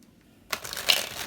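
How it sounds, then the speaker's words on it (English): Tarot deck being shuffled up close, a sudden burst of riffling card noise after a half-second of quiet, short and faint. "One more shuffle, you guys."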